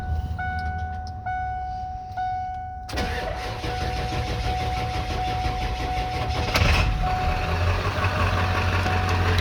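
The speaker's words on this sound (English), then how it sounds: "It's not cranking very fast because it's been sitting for probably about a week since we started it" A 1997 Ford F-250 with a 7.3L Powerstroke diesel cranks slowly after sitting about a week, with a whining starter and chiming in the background, then catches and settles into a loud, steady diesel rumble up close.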